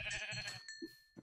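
A sheep bleating in the video game Minecraft (Yogcraft), a short, loud wavering bleat followed by a few faint game sound effects.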